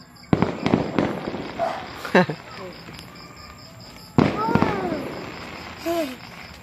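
Fireworks burst over a town in Tayabas, Quezon during a December display, with sharp bangs and crackling pops at irregular intervals, some whistling, and excited voices talking and exclaiming close by.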